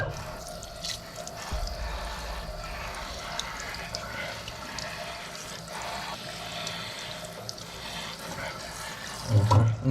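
Water poured to bathe a small pet bird, a steady close splashing and trickling stream running for several seconds, ending in a louder burst.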